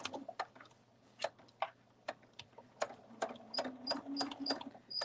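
Sewing machine stitching a seam on a fabric bunny, heard faintly with a low hum, irregular short ticks and clicks, and a few brief whirring runs of stitching toward the end.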